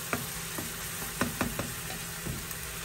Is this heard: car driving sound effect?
no